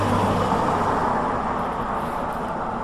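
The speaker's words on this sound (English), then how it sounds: "Hero, and Redwood, and they four got into a car and started heading down" A car pulls away from a Pacific Crest Trail trailhead heading toward Winthrop: a steady, loud engine and road rumble that holds level, heard alone without speech.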